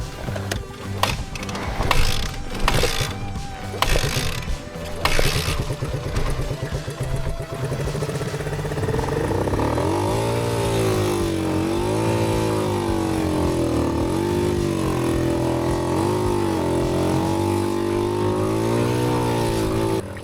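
A 10-horsepower 100cc dual sport motorcycle climbing a snowy mountain trail: clattering mechanical knocks and shifting at first, then a sustained engine whine rising and falling as the throttle works, close and loud.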